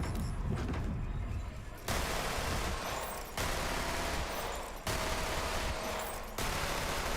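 The Shredifier assault rifle in Borderlands 3 fires rapidly in long, loud sustained bursts, several continuous volleys broken by brief gaps, with no talking.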